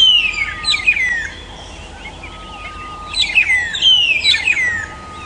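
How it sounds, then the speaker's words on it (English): Magpie shrikes call on a sunrise safari drive, sharp descending chattering whistles arriving in two bursts with a pause between, fairly close and clear over a quiet outdoor background. "the magpie shrikes are being the noisiest ones of them all"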